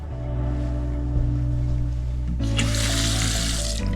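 Water running from a tap in the bathroom of a ferry cabin: a low hum with a steady flow at first, then a louder, brighter rush of water starting partway through and continuing to the end.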